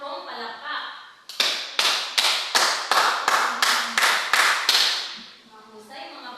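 Ten quick, evenly spaced claps from a group of children praising a team in a classroom, loud and close, with a teacher's voice speaking briefly before and after.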